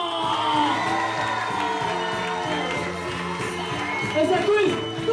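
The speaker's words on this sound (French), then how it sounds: "une ovation s'il vous plaît pour Mr." An audience at a holiday village club cheers and whoops for entertainer Florian, a dense wall of crowd voices and shouting with a rhythmic backing beat underneath, swelling slightly near the end.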